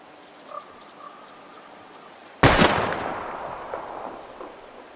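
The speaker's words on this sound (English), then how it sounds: "We're gonna shoot all these bottles without wasting a single bullet." A single sharp gunshot from the video game Life is Strange, fired at bottles, cracks loudly after a quiet stretch and then fades in a long echoing tail, with faint ambient sounds before it.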